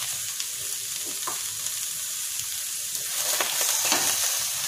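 Vegetables for Bengali shukto fry in hot oil with a continuous close sizzle, joined by light stirring scrapes that swell slightly toward the end; no voices are heard.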